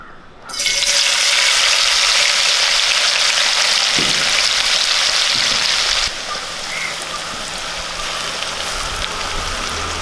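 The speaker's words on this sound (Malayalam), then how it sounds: "ഇനിയും ബാക്കി ഇരിക്കുന്ന സവാള കൂടെ നമുക്ക് ഇതുപോലെ വറുത്തു പോരാം" Sliced onions fry in hot oil for chicken chukka, giving a loud, steady close sizzle that starts abruptly, holds for several seconds, then drops to a quieter bubbling.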